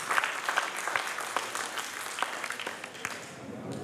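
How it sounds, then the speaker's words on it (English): An audience at an annual multicultural show applauds the evening's MC, a moderate, even patter of clapping from a seated crowd that carries through without a pause and tapers slightly at the end. "Can we have a round of applause for him?"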